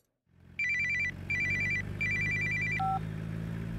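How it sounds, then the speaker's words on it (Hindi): A telephone rings with an electronic trilling ringtone, three loud repeated bursts followed by a short lower tone, over a steady low background hum, with no voices. "ए सुन, तेरे लिए फोन है।"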